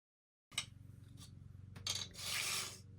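Metal cutters dusted with baby powder slicing and pressing through polymer clay for bubble earrings: a few close, scraping rasps that swell into a longer gritty scrape near the end, with no one talking.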